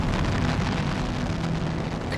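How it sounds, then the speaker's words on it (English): Saturn V rocket at the Apollo 8 launch: a dense, continuous, loud roar of broadband rumble without a break, filling the whole short stretch. "the noise of the Saturn V is the loudest man-made sound on Earth"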